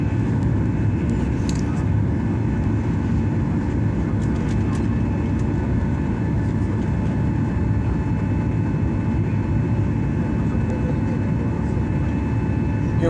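Airliner cabin on approach into Copenhagen over the Danish islands, a loud steady engine and airflow roar that holds evenly throughout with no break.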